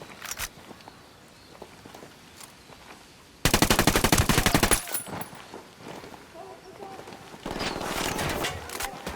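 Machine gun fire in Ghost Recon Wildlands, a loud dense automatic burst after quiet footsteps and shuffling, then a second sustained burst near the end, slightly more distant and steadier.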